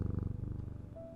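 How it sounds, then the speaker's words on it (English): A cat purrs close and steady, a fast rhythmic rumble over about a second with nothing else heard. "Oh, is that a cat?"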